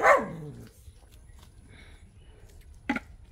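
A dog barks near a parked car, one loud close bark at the start and then a second shorter one a few seconds later over quiet background noise.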